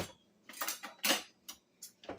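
A knife clinking and tapping on a hard surface while cutting cheese danish pastry dough, a few sharp, close, irregular clicks over about two seconds.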